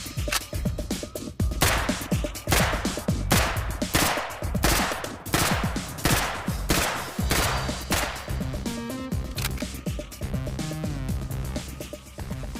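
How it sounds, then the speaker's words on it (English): Repeated bursts from an MP5 submachine gun, loud close cracks in rapid clusters that ring out with echo between strings of shots, no voices. "Larry Vickers, ex-US Special Forces, has used the MP5 and rates it very highly."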